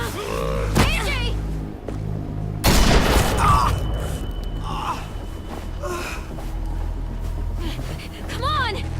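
Gunfire in The Walking Dead: The Final Season video game, a loud booming shot bursting out mid-scene, with gasps, faint voices and tense ambient noise around it.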